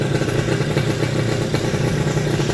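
A Yamaha F1Z-R two-stroke motorcycle fitted with an RX-King piston runs loud and close, a steady rough growl with a clattering mechanical edge that never lets up.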